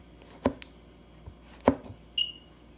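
A few sharp knife strikes on a cutting board chopping chili pepper, spaced apart, close and fairly quiet with no talking.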